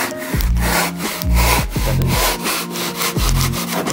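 Hand sawing through wood for a climbing hold, a steady back-and-forth rasp of repeated strokes, close and fairly loud, with no talking.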